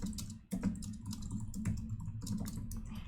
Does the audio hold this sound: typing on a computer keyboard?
yes